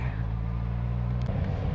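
Road traffic on Manila's Skyway Stage 3 before dawn, a steady low engine rumble from surrounding cars, close and continuous, with a slight shift in tone near the end.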